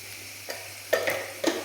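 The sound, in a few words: dried manathakkali berries frying and being stirred in a pan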